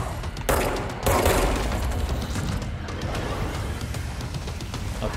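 Gunfire in the video game Control crackles in rapid bursts over a dense, rumbling game soundtrack, loud and continuous throughout.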